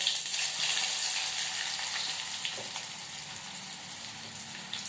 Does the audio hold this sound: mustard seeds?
yes